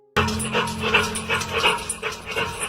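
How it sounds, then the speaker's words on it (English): Quick, breathy panting echoing through a pipe repeats in a steady rhythm, close by, with faint whimpering sounds mixed in. "A low panting sound starts echoing through the pipe."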